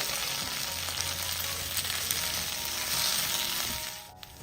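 Kashmiri chili and coriander powder sizzle steadily in a hot pan while being stirred, a close, continuous frying hiss with light scraping and no talking.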